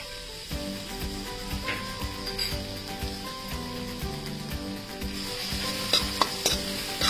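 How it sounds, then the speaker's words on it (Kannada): Ginger and garlic sizzle and fry in melted butter in a pan for a homemade veg burger patty, a steady close hiss broken by scraping stirs and occasional louder clicks. "ಕರೆಕ್ಟಿದ್ದ ಹಾಗೆ ಶುಂಠಿ ಮತ್ತು ಬೆಳ್ಳುಳ್ಳಿನ ಹಾಕ್ತಾ ಇದ್ದೇನೆ."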